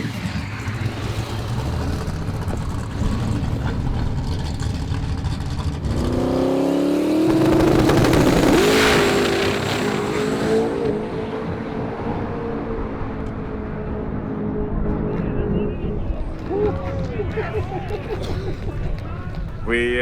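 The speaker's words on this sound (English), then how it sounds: "And it's a aluminium engine, 540, single turbo, force inductions, 125." A Pro Mod drag car with an aluminium 540 single-turbo engine roars past, swelling to a loud peak around the middle and then fading into a sustained high whine. Speech carries over it toward the end.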